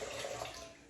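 Warm water at about 40 degrees C, meant for proofing yeast, pours into a pan in a brief, soft, close splash with no voices.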